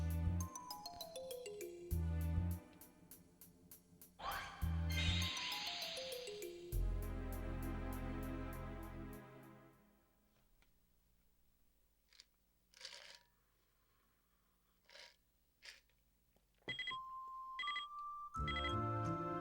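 A telephone rings in the video game Wild Arms 2, a bright repeating electronic chime that sounds in several loud bursts before fading into quieter game tones.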